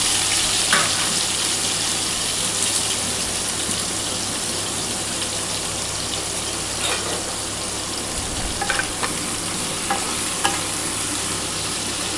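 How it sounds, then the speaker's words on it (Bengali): Prawns frying lightly in hot oil for a potato-prawn curry, giving a steady close sizzle and hiss throughout with occasional small pops and stirring clatters, no voices. "আমার কিন্তু তেলটা গরম হয়ে গেছে। আমি চিংড়ি মাছগুলো হালকা করে ভেজে তুলে নিচ্ছি।"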